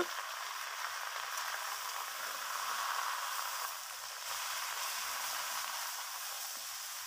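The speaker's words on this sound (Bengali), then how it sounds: "এবার টুকরো করে রাখা লাউগুলো আমি ঢেলে দিচ্ছি দিয়ে নাড়াচাড়া করে নেব" Cut gourd pieces hit hot oil in a pan and set off a steady, broadband hiss of frying that holds through the whole stretch. The sizzle stays fairly quiet, and no one speaks over it.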